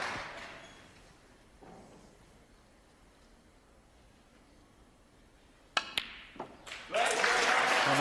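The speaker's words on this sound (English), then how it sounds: "And he is being cheered on to the rafters." Snooker crowd at the 2014 UK Championship erupting into cheers and applause for a 147 maximum break, a sudden loud burst near the end after a long quiet stretch with a few sharp knocks.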